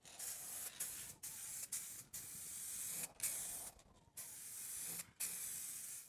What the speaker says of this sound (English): So let's continue on and give it another shot of green.